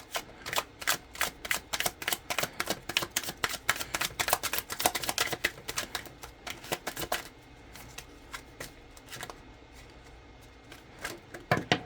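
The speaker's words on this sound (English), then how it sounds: "Let's shuffle one more time." Tarot cards are riffled and shuffled in quick bursts of crisp snapping clicks, close and fairly quiet, with pauses between rounds.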